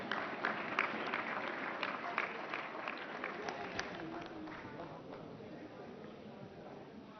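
Audience applause at a national conclave in honour of the chief guest, the finance minister: dense, sustained clapping from a large crowd, steady throughout and slowly tapering, with some voices mixed in.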